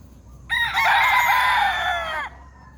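A gamecock crows once, loud and close, a long drawn-out call of nearly two seconds against quiet outdoor background.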